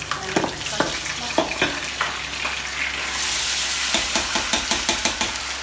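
Onions frying in a pan for a black-eyed pea dish, with steady sizzling and hiss close up, broken by repeated clattery stirring strokes.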